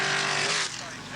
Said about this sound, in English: 3 big V8s, 3 different type of race cars.